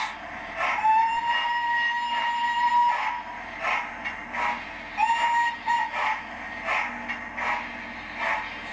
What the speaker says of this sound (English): give us a toot of the whistle